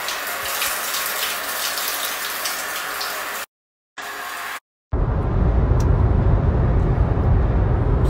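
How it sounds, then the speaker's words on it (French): A shower runs with a steady broadband hiss of spraying water, interrupted by two short silent gaps before the flow resumes louder and fuller. "Là, je prends une douche."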